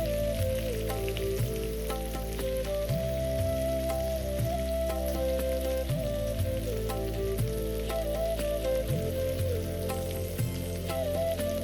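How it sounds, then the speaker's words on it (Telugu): Spice-stuffed brinjals frying in a pan for guttivankaya curry, a continuous close sizzle with occasional soft knocks and scrapes as the pieces are turned over, no voices. "ఇప్పుడు పై భాగం కూడా మనం ఫ్రై అయ్యేటట్టుగా ఈ వంకాయలన్నిటిని ఒకసారి ఈ విధంగా మనం తిరిగేసుకోవాలి"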